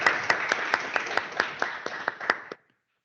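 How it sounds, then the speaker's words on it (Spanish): A few people clapping together at the close of a programming masterclass, a sparse, fairly close patter of distinct claps for a couple of seconds that stops abruptly into silence. "Y un aplauso, a ver si se oye."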